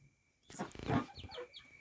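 Young hens in a farmyard give a short, faint burst of clucking followed by a few thin, rising peeps.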